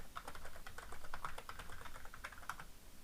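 Quick, light keystrokes on a computer keyboard as T-SQL commands are typed, irregular clicks in short bursts, close and fairly quiet with no talking.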